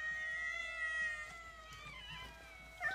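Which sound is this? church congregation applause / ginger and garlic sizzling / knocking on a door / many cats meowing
many cats meowing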